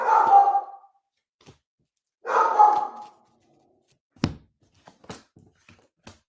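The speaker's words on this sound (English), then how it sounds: "Barking at nothing." A dog gives two drawn-out barks or howls close by, followed by a few faint taps and clicks in an otherwise quiet room.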